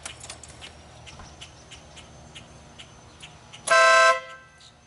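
A single loud, blaring blast from a newly installed vehicle air horn sounds near the end, lasting about half a second, after a stretch of quiet background noise.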